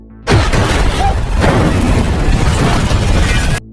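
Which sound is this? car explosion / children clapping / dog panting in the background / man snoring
car explosion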